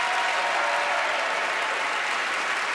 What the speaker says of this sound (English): And a huge round of applause for Cantabile!